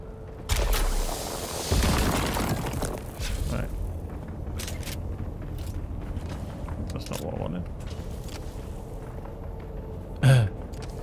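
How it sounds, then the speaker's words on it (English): Gunfire in the Dune Awakening video game, heard as a series of muffled booms and thuds at moderate distance over a constant game ambience, with a sharper thump near the end. "Because all I can hear is gunfire over there somewhere."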